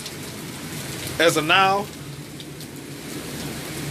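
Steady rain pours onto a porch on a stormy night, a constant broadband hiss throughout while someone briefly speaks over it.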